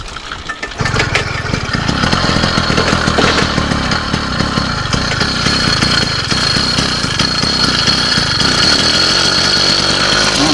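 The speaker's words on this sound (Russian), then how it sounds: "Запустилась двигатель." A small engine on a motorized all-terrain bike sputters to life after a brief quiet start, then runs loud and close with a rough, rapid buzzing idle that holds steady to the end.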